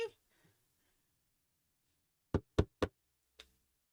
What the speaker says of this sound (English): I thought you were knocking.